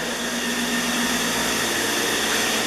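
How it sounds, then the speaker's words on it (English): A hot air hair dryer in a public washroom blows steadily with a loud, constant whooshing roar and high whine, running alone without pause. "Hot air hair dryer."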